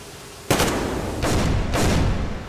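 Rapid automatic gunfire in the video game Metro Exodus rattles out in three loud, dense bursts, with brief gaps of quieter ambient noise between them.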